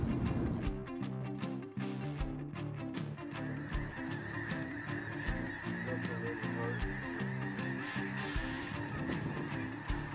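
Dense flock of geese honking continuously in a field near dark during a late-season waterfowl hunt, loud overlapping calls from many birds with a steady chorus throughout.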